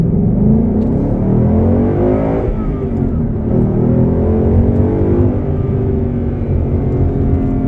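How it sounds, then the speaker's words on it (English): A 2016 Mustang GT convertible's V8 engine accelerates in first gear, a loud, steady revving roar that holds strong throughout without any talking. "I have the car in first gear, so let's go ahead and give it a little roll on here"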